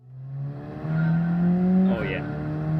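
A race car engine in Gran Turismo 7 hums and revs steadily, pitch climbing and dipping as it accelerates, with a brief squeal near the end.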